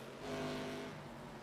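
A race car engine holds steady on throttle through a downhill corner at Lime Rock Park in iRacing, a sustained, moderately loud tonal drone with a slight rise in pitch, heard alone.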